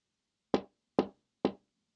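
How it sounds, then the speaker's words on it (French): Three firm knocks on a door, evenly spaced, close and clear with silence between them. "Qui frappe à la porte de la petite taupe?"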